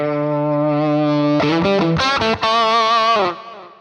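A heavily distorted electric guitar through a Fractal amp modeler holds a sustained note, then plays a few choppy chords with a buzzing, saturated amp tone before cutting off.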